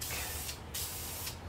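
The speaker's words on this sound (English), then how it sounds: "just going to use some clear polyurethane in the high gloss finish and just give it a quick" Clear high gloss polyurethane finish sprayed from a can in two short, loud hissing bursts with a brief pause between them.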